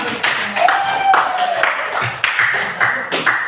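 A class claps hands in a loose, uneven burst of separate claps, moderately close, with children's voices chattering over and between them.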